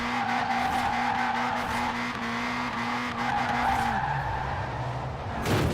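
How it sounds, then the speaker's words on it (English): A Toyota Trueno AE86 Enjuku Racing Edition drifts in Forza Horizon 4. A steady engine drone runs under long, continuous tire squeal, the pitch dropping near the end, with no voices. "I should be careful with the drift"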